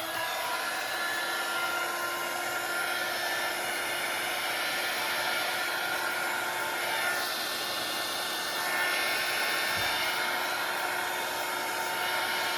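Steady broadband blower hiss drying alcohol inks spread on a large Monstera leaf, continuous and close for the whole stretch with slight swells in strength.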